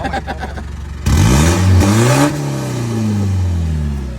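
A 2007 four-door pickup with a 3,000 cc engine idles unevenly, then revs hard in a loud rising-and-falling burst, settling into a second, gentler swell of engine noise.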